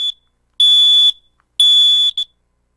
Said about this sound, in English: Test all your smoke alarms at least once a month by pushing the test button like this.